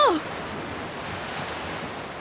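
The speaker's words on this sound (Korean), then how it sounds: "큰 파도가 밀려오고 있어!" Big ocean waves crash and roar in a steady, loud, broadband wash with wind, heard alone after a brief opening tone, as a sound effect in an audiobook of a boys' shipwreck adventure.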